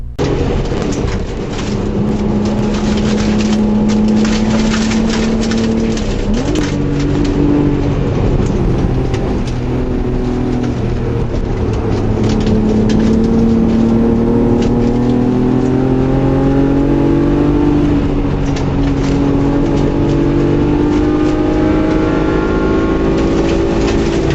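A race car drives fast along the Larison Rock hill climb course road, its engine loud and close, rising and falling in pitch through shifts and corners with no talk.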